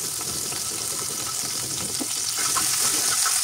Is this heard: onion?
yes